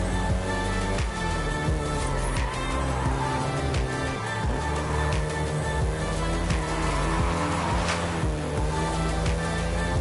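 A Volkswagen Golf GTI driving in the racing video game Forza Horizon 5, its steady engine drone held under layered music or ambience, loud and continuous with occasional shifts.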